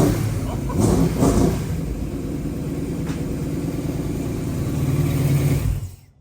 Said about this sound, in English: It's running again! So it's idling!